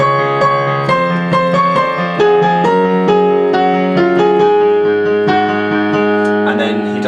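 Piano playing the bass notes of a song: a steady run of low sustained notes changing about once a second, rich and close, ringing continuously with no voice.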